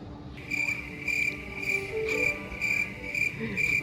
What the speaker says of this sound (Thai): เสียงจิ้งหรีดเลย